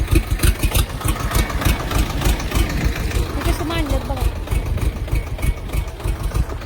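A tractor engine idles on a muddy farm, a loud, close, rough chugging throb that continues throughout under someone talking.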